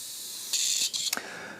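An airbrush gives short blasts of spray, with a hissing burst of air followed by a second shorter puff and a small mechanical click, then a fading hiss.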